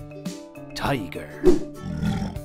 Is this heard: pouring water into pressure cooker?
no